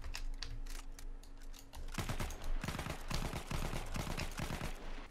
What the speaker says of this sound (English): Now he has access to the MP18 Experimental, which is the uh, burst fire weapon. Fires three round bursts.